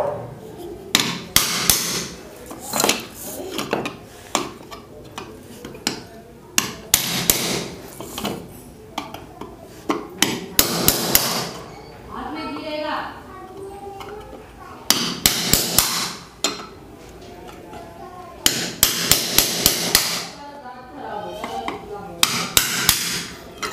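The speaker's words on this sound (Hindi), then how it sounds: "रिपीट काटने के लिए मैं सुम्मी और हथौड़ी का यूज़ करूँगा।" Repeated sharp hammer blows strike a punch to cut a rivet on a cooler motor, coming in quick bursts of several hits separated by pauses, close and loud.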